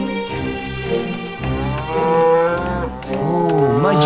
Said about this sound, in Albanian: Oh, jo, jo, është një lop.